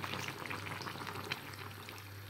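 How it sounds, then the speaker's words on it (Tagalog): Pineapple chicken in milk simmering in a pot, a soft, steady bubbling and sizzling hiss heard up close at low volume throughout, with no talking. "Kunting kulo lang."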